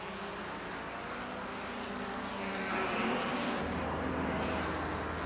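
1957 German Grand Prix Formula 1 race cars streaming along the back straight behind the pits, their engines a steady roar that swells midway as the cars pass close, then settles into a lower drone.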